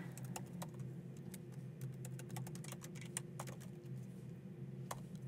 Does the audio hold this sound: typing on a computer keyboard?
yes